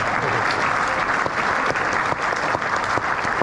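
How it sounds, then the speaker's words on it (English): Theatre audience at a West Ham legends night in the Adelphi Theatre breaking into loud, sustained applause, dense clapping from many hands with a few sharper individual claps standing out near the front. "Round of applause."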